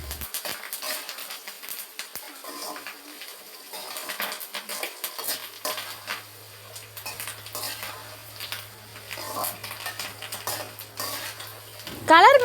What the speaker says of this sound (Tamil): அது நல்லா கலர் மாதிரி பொன்னிறமாக வர வரைக்கும் கிண்டுங்க.